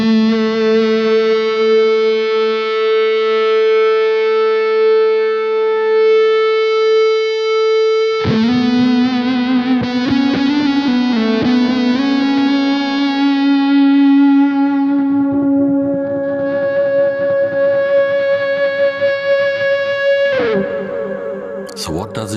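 An electric guitar plays long sustained notes with a smooth, compressed tone and lush reverb, the pitch shifting a few times, loud and close.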